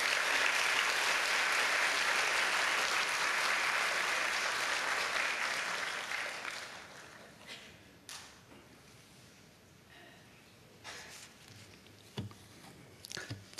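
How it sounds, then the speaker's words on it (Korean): A church congregation gives a pastor a welcoming round of applause, loud and sustained clapping for several seconds that then thins out into scattered claps and small room noises. "크게 박수로 환영해 주시고."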